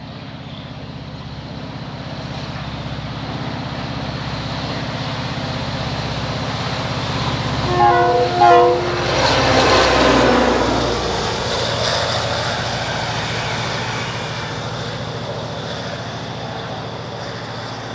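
Class 664 locomotive number 108 powering south with a Budapest to Ljubljana train, a steady heavy engine drone that swells into a louder passing roar midway with rhythmic mechanical beats, then fades back to a sustained rumble.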